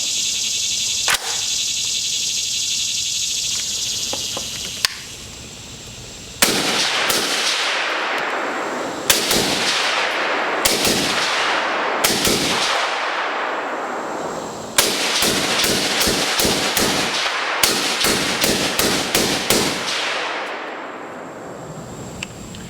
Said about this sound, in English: Let's put a few rounds downrange.